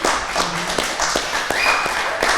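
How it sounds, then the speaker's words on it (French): Audience applause for Pascal at a business event: a scattered patter of claps with some sharp individual hits and faint voices mixed in, fairly close. "on peut applaudir Pascal"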